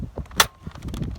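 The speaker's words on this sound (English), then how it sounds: "So we're gonna fire the Surgefire." A Nerf Elite Surgefire blaster fires a foam dart with one sharp, loud pop, close by, framed by faint mechanical clicks and handling noise.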